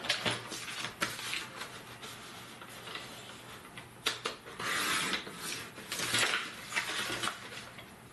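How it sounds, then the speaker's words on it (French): Paper being cut for a scrapbooking album page, a quiet run of close dry snips and sliding rubs with small ticks, alone without voices. "je coupe ça."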